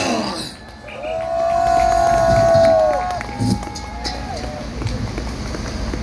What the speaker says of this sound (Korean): 큰 함성을 보내주시기 바랍니다